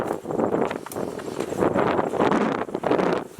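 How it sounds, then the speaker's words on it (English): Strong wind blasts directly into the microphone on an extremely windy day beside an overgrown lot, producing loud, continuous buffeting roars that surge and dip in gusts, with no voices. "This is an extremely windy day, so I have no idea of the quality of the audio that we've been getting"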